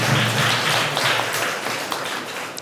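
A church congregation at a Holy Trinity feast Mass claps warmly to welcome Father Arun, a dense, even burst of applause that gradually tapers off without any voices.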